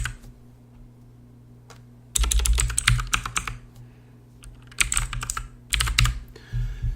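Computer keyboard keys clatter in quick close bursts while account details are typed into MFTCentral system settings, with short quiet gaps between three or four runs of typing.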